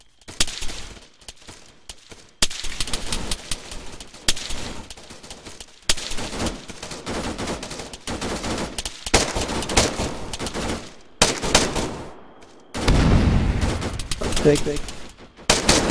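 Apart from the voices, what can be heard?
gunfire in an outdoor airsoft role-play game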